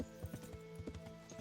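Horse hooves clip-clop at a steady trot in the medieval video game Kingdom Come: Deliverance, a rhythmic run of moderately loud beats with faint game ambience and no speech.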